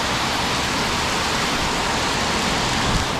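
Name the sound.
heavy rain in Thailand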